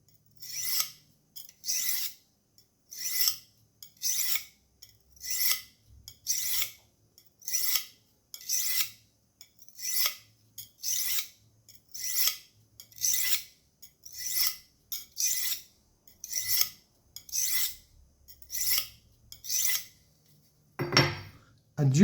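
Steady back-and-forth strokes of a blade on the fine side of a Vonder silicon carbide sharpening stone, about eighteen even rasping passes in a regular rhythm, close and fairly quiet, with no talking.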